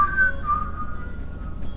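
A person whistles a few short, wavering notes close by, thin and slightly breathy, over a low background hum.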